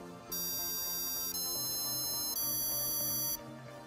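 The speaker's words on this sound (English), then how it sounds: "Make sure you've programmed a do re mi sound that lasts exactly 3 seconds." Three steady electronic tones step upward in pitch, one after another, each held about a second, clear and alone.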